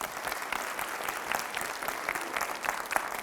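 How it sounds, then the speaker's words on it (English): A high school assembly audience claps steadily for four people at Fossil Ridge High School, a thick, even wash of applause held throughout at moderate loudness with no voices over it. "Round of applause for these four."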